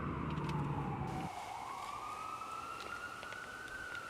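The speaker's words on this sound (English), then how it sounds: "I've got the ambulance behind me, and I'm headed your way." An ambulance siren wails, holding a long tone that slowly climbs in pitch, loud and close, over the rumble of the moving ambulance.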